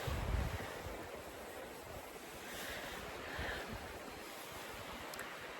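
Water flowing at a creek crossing in the Gila Wilderness, heard as a steady, soft, distant rushing wash mixed with faint wind noise, with no voices.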